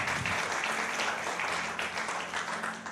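A church congregation breaks into a short burst of loud, dense applause that holds steady for a few seconds, then begins to thin toward the end.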